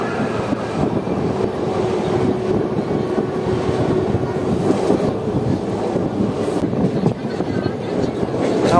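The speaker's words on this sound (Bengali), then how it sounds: "আমাদের ট্রেন ক্রসিং করছে এখন শেওড়াফুলি জংশন রেলওয়ে স্টেশন।" Express train crossing Sheoraphuli Junction railway station in India, a loud sustained rumble and rattling of wheels on track with a faint steady hum and wind noise throughout.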